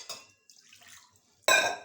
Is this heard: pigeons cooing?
no